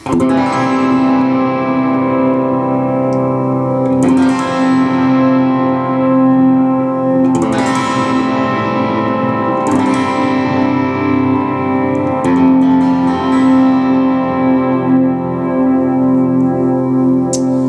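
Strummed electric guitar chords ring out every few seconds, each swelling into a wash of repeating echoes that trail and blur together.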